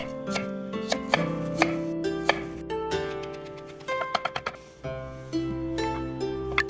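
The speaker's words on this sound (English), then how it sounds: "Next, we'll mince the garlic." Garlic is minced with a knife on a cutting board, sharp quick taps landing in irregular bursts, some rapid and clustered, under prominent background music.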